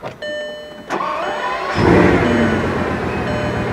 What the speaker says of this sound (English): what does this engine sound like?